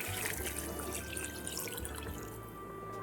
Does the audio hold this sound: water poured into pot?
yes